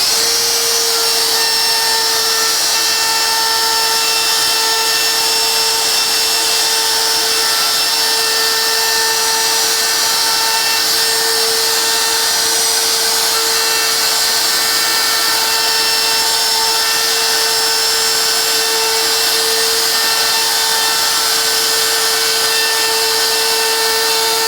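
A power carving tool trims lines into Extira board with a steady, high-pitched whine that holds for the whole stretch, close and loud, with no talk.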